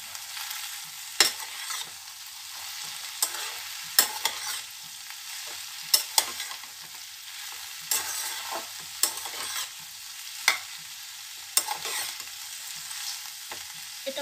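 Steamed cauliflower stems with a few cauliflower leaves and eggplant are stirred in a frying pan, a steady close sizzle broken by repeated sharp scraping strokes of the spatula.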